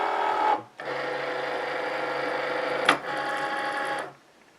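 A Cricut cutting machine draws in a mat to load it, with a steady motorized whir that stops briefly, restarts, jolts with a click near the end, then falls silent.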